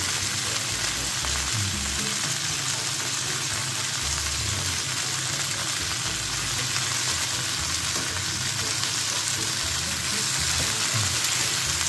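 Chicken wings frying in a skillet give a steady, close sizzle with occasional low bumps and stirring sounds throughout, with no talking.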